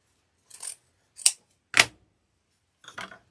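Scissors snip through ribbon while a small wreath bow is made, four short crisp cuts spaced unevenly, close and clear against silence.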